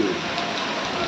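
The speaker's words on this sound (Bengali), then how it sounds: "24 ঘন্টা মানে হয়ে গেছে একটানা বৃষ্টি হচ্ছে" Heavy, unbroken rain pours onto the flooded playing field of the Government Michael Madhusudan College campus in Jessore during a low-pressure downpour, a dense steady hiss with no break.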